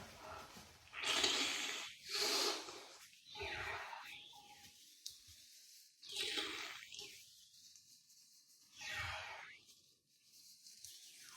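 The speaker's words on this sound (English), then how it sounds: "So I'm going to blow my nose" A person blows their nose after using a Navage nasal irrigation system, producing several forceful, wet, snorting blasts and sniffs in uneven bursts, close and fairly loud, with quiet breathing between them.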